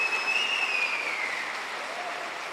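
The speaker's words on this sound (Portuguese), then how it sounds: "Pode aplaudir, pode aplaudir, pode aplaudir" A church congregation applauds during a sermon: steady, dense clapping from many hands, with a thin high whistle running through it.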